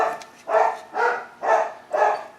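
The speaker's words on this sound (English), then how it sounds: "I wished I had some neighbor dogs that just sat up there and barked needlessly" Neighborhood dogs bark repeatedly in the distance, four or five even, evenly spaced barks about half a second apart, moderately loud with no talking.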